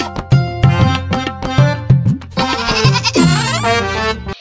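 A newly bought goat bleats again and again in short, wavering cries, loud and close, over a steady tonal background.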